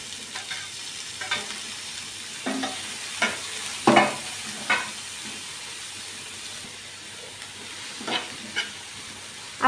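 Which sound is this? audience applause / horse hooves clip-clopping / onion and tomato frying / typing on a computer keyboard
onion and tomato frying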